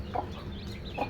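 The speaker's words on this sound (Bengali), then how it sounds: "সুন্দর সুন্দর দেশি মুরগি" Desi hens on a backyard farm, two short soft clucks spaced about a second apart over a low background murmur, close by.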